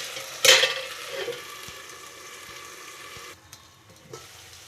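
Potato, peas and tomato curry with kasuri methi frying in a pan, a soft low sizzle with a sharp stir and clatter of a spoon early on, then quieter simmering bubbling.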